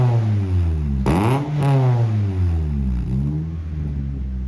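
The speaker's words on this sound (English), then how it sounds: "here's what it sounds like now" A car exhaust fitted with a Flash Shark header revs hard twice in quick succession near the mic, then settles into a steady, rumbling idle with a slight rasp, loud and close throughout.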